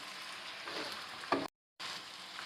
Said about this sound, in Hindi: चिकन पे गोल्डन मार्क्स आने तक हम इसको फ्राई कर लेंगे।